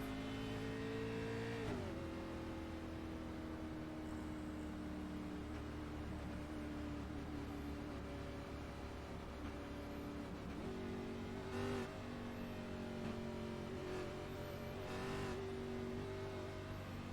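Stock race car engine on a track in a racing game, a steady loud drone with a gear drop early on and occasional surges, alongside other cars' engines under caution pace.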